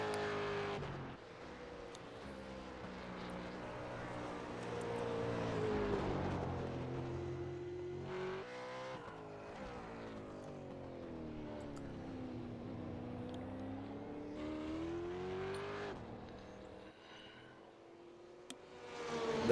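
A supercar screams down the front stretch at Phillip Island, its engine note climbing through the gears with brief dips at each shift, loud and close throughout.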